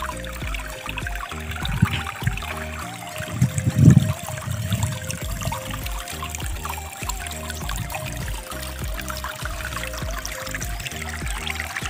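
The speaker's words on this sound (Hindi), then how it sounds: "तो आप देख सकते हैं किस तरह हमारे खेत का नाला में पानी बह रहा है।" Rainwater runs through a farm field drain in a steady outdoor gush and trickle, with a louder splashing surge partway through and low rumbling underneath.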